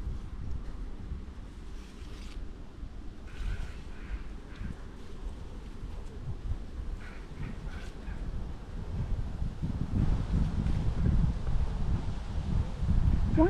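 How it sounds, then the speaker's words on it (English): Wind gusting outdoors along a country lane while blackberries are picked, a steady rough rumble buffeting the microphone and growing stronger toward the end. "Why is it the wind always gets up whenever I'm going to do something with a video camera?"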